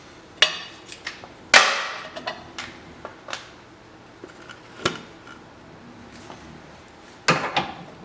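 Work on the rear lower control arm of a Chevy HHR with a 21 mm bolt: scattered sharp metallic clanks and knocks of tools striking parts, irregular and close, with quieter rattles between and no talk.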